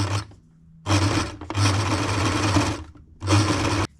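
A sewing machine runs in three bursts, stitching around the head of a Waldorf doll reindeer, a short run followed by a long steady stretch and then another short run, close and loud, with brief pauses between.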